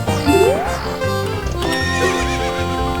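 A horse whinnies in the Zelda Ocarina of Time video game at a ranch corral, a rising neigh near the start over a looping game-music background.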